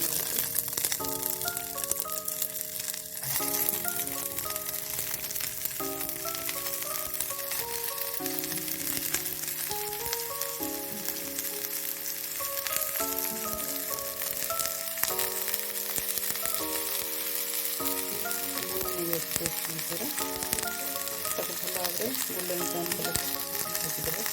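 Sliced onions fry in mustard oil in a pan, giving a steady, close sizzle that runs the whole time beneath melodic background music.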